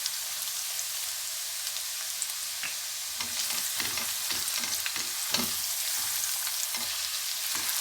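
Finely chopped garlic frying in a pan gives a steady, bright sizzle throughout, with occasional soft stirring scrapes and clicks as it cooks, no voice heard.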